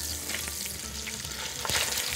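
Vegetables fry in a pot for risotto, giving a steady, close sizzle broken by soft scraping as they are stirred, with no talk.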